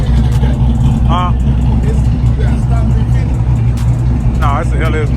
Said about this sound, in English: Nah, it's the LS motor in there.